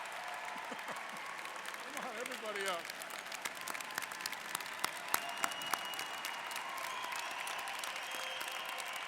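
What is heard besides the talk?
commencement audience applause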